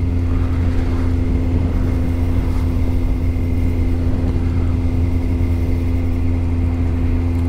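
A Kawasaki Z750R roadster with a catalytic converter cruises in third gear at about 3000 rpm, its engine and exhaust holding a steady, even drone throughout with no change in pitch.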